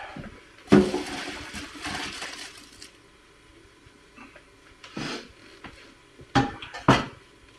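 Cooked pasta is drained for Alfredo. Water gushes and splashes in a few bursts, with clattering pot and colander knocks between quieter moments, close and fairly loud.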